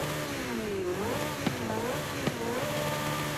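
Porsche RSR race car in a racing video game, its engine droning steadily with rising and falling pitch as it revs, plus two brief sharp clicks along the way, with no talking.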